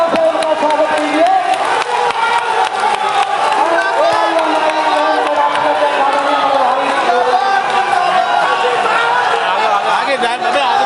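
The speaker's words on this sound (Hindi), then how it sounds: "आप लोग जोरदार तालियों से उनका स्वागत कीजिए।" Sustained, dense crowd din at a party workers' conference, rising as the crowd welcomes national president Asaduddin Owaisi, with cheering and many overlapping voices throughout and no clear break in the noise.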